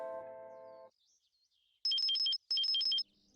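A phone rings with an incoming call, first a short tonal chime and then two bursts of a fast, repeating high electronic ringtone pattern, loud and close, with no talk over it.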